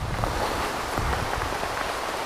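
Rain falls steadily during a ride on a Honda Goldwing motorcycle along the Blue Ridge Parkway, a dense, even patter across the whole clip, close and unbroken, with no voices.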